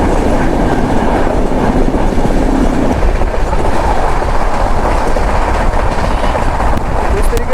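Garib Rath Express passenger train running on rails, a loud continuous rumble with rhythmic clickety-clack of wheels over track joints, heard from inside the carriage throughout.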